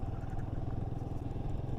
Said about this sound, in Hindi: आज मैं पहली बार अपनी बाइक के पीछे बैठा हुआ हूँ एज अ पिलियन।